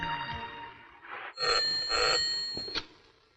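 A telephone rings in a Hindi film scene, a bright repeated bell-like trill in two or three bursts over soft background sound, fairly near and moderately loud.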